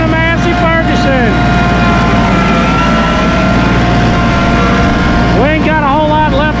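A Massey Ferguson 1840E hydrostatic compact utility tractor with a 39.4 hp engine drones loud and steady close by as it is driven, with a brief rise and fall in engine pitch near the end.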